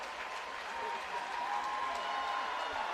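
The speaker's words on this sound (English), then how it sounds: "The crowd is getting into it." A crowd at a 5k collegiate track race cheers and applauds steadily, a broad continuous roar of clapping and shouting from the stands, with an announcer's voice faintly under it.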